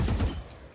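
A single sharp burst of Vandal rifle fire in Valorant, with a slightly alien-sounding quick rumbling tail, loud and close, fading within a second.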